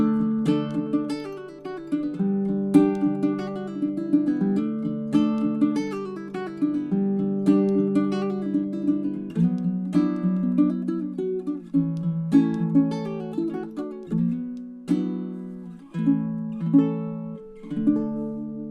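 Oli baritone ukulele being fingerpicked, a warm melodic passage of plucked notes and chords, close and clear, with no talking.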